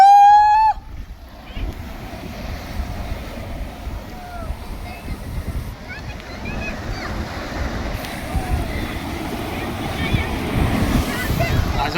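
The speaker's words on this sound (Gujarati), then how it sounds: "જો દરિયાનો ઘૂઘવાટો જો તમે." Sea waves roar and wash steadily onto a beach in Kutch under wind noise, a broad continuous surge building slightly louder toward the end, after a brief opening tone.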